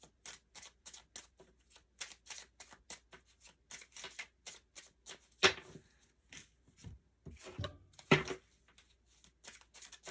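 Cards are shuffled in quick repeated riffles and taps, a rhythmic run of crisp flutters with a couple of sharper snaps partway through, close and fairly quiet.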